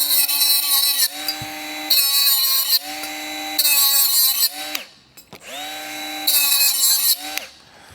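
A Bosch GWS 12V-76 brushless cordless angle grinder grinds the rough end of 1.5 mm steel in several loud, close bursts. The high, tonal whine rises when the disc bites into the metal and winds down between passes.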